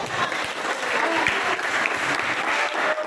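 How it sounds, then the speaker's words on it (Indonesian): Students in a classroom applaud together, a dense burst of clapping that carries on for a few seconds at moderate loudness. "beri tepuk tangan kita."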